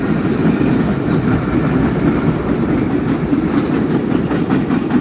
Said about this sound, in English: All right, so that was freight load headed northbound.